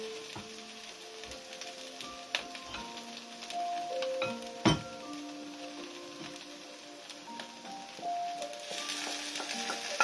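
Chicken frying in a pan with rosemary garlic potatoes, a quiet steady sizzle with scattered crackles, a few clinks and one sharper knock midway, close and continuous.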